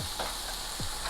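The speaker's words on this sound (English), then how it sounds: "we just have to just stir fry until they are soft enough" Onions stir-fried in a pan for chicken fried rice give a steady, close sizzle with a couple of soft scraping stirs, and no voices.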